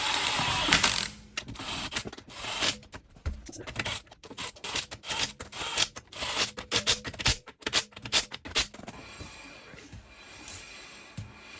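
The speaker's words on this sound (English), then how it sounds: "I'll just get them started with this impact gun on the weak setting so that we don't over-torque things" Short bursts of a pneumatic impact gun on a low setting run lug nuts onto a 2016 Subaru Crosstrek wheel, a rapid rattling whir repeated in quick, uneven pulses, close and loud.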